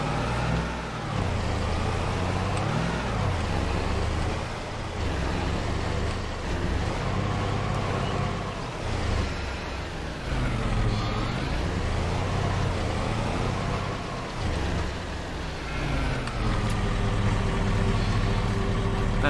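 Engine of a pickup truck in the farming game Farming Simulator 22, a loud, steady droning motor hum with shifting pitch that runs continuously throughout, alone without talk.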